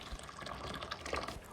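Boiling hot water poured from a kettle into a small bowl in a home kitchen while making bread rolls, giving a close, steady splashing fill with light dripping, with no talk.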